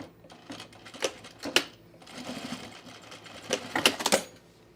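A sewing machine stitching a zip hoodie runs in short bursts of rapid mechanical chatter with pauses between them, close and moderately loud.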